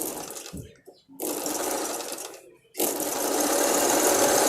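Hand sewing machine driven by an electric motor, stitching with a steady, close whirring clatter that stops briefly twice before running on.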